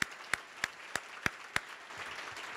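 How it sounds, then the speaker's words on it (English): Sparse applause from a conference audience at an annual city design gathering: about six distinct, evenly spaced claps stand out at first, then a faint, diffuse patter of clapping lingers in the background. "Huge round of applause."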